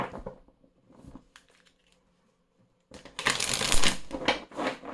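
Médéors oracle cards shuffled by hand: a few soft card flicks at first, a pause, then a louder burst of riffling and slapping cards close by, with no talking.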